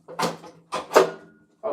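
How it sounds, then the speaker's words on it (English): Metal door of a flat bottom Movi 25 street light fixture being fitted back on, a few close knocks and scraping clunks in quick succession. "Next challenge is to get the door back on the fixture."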